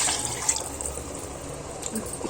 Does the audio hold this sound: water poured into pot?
yes